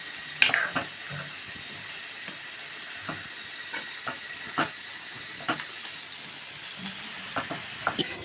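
Dry grapes fry in a pan for bread halwa, giving a soft steady sizzle with scattered light pops and occasional stirring scrapes, quiet and close, with no voices.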